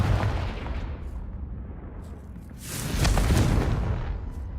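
Confringo fire spell blast in Hogwarts Legacy, a rumbling whoosh building to a loud fiery burst in the second half, dense and booming.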